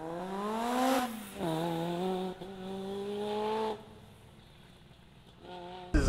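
A Lamborghini Gallardo screams around a fast autocross course, its engine note rising and falling in steady pitch sweeps through gear changes, loud and close, with a brief lull before the revs climb again.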